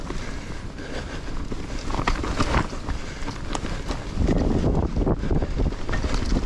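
Strong wind on the Ridgeway in the Marlborough Downs of Wiltshire on a cold, icy morning, buffeting the microphone as a steady, loud rush with gusts throughout.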